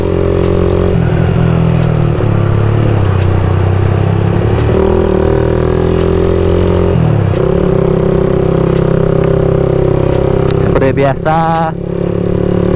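A Suzuki Satria motorcycle engine runs steadily and loudly throughout, its pitch shifting as it revs, with a brief rise and drop near the end.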